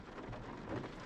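Steady rain falls outside an IKEA store in Pittsburgh, Pennsylvania, a dense, even hiss of drops with a faint low rumble underneath, continuous and fairly soft.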